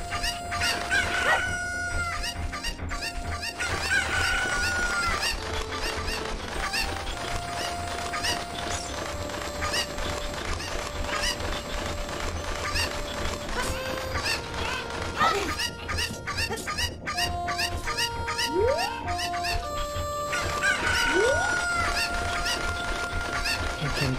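Chickens cluck and a rooster crows in Zelda: Ocarina of Time, with repeated bird calls scattered over continuous game music for the whole stretch.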